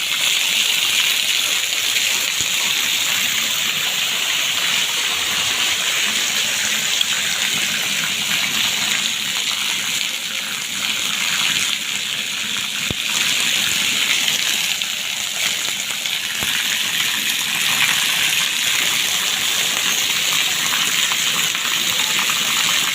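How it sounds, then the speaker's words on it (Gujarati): Heavy monsoon rain pours steadily in Banaskantha, Gujarat, with a dense, gushing wash of water noise, loud and unbroken, no one speaking. "ખૂબ જ સારો એવો વરસાદ થયો છે"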